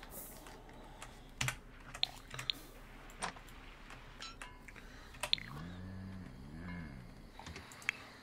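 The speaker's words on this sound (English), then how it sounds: "Practice typing 3 times." Keyboard typing inside The Sims 4, a Sim practicing on a computer: quiet scattered key clicks and taps in irregular bursts, faint and close, with a soft tonal game chime rising midway.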